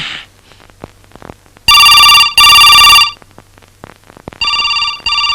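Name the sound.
telephone ringing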